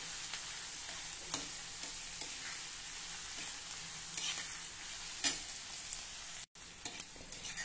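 Pigeon pea chutney with onion fries on an iron griddle, giving a soft, steady sizzle with occasional light scrapes from stirring.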